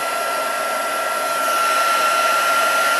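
Heat tool blowing continuously over embossing powder on cardstock, a steady whooshing fan hiss with a thin whine running through it, close and unbroken.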